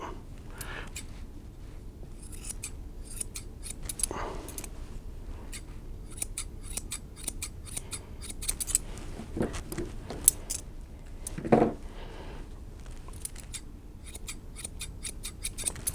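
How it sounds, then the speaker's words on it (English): Scissors snip repeatedly behind a dog's ears during grooming of an anxious dog, crisp close cuts arriving in irregular clusters over a quiet room background. "I'm just gonna scissor a little behind her ears."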